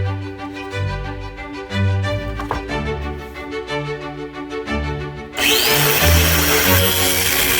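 Power tool drilling into the steel of a railroad spike being made into a hammer, a steady whirring grind that turns into a louder, harsher, noisier tone partway through, close up with no talking.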